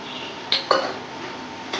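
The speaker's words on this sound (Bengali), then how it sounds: "এবার এখানে আমি চিংড়ি মাছগুলো ছেড়ে দেবো যেগুলো আমি ভেজে রেখেছিলাম" Fried prawns go into a pan of soft-cooked bottle gourd with a few quick metallic clinks and scrapes of a utensil against the pan over a faint background hiss; no speech.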